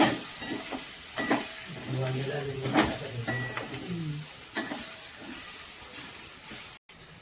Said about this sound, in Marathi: गोळा गूळ टाकल्यानंतर छान हलवून घेऊ.